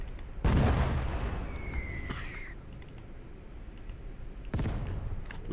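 Two heavy booms of artillery fire in the video game Call to Arms - Gates of Hell, each a sharp blast with a rumbling tail, the second about four seconds after the first, with a brief whistle between and keyboard clicks throughout.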